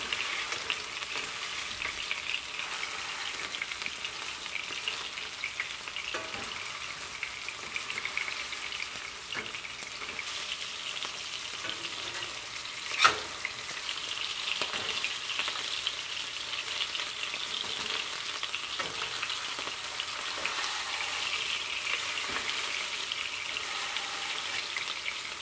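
Homemade breakfast sausages seasoned with thyme and sage frying in a pan: a steady close sizzle and crackle runs throughout, with occasional faint scrapes and one sharp tap midway, no talking.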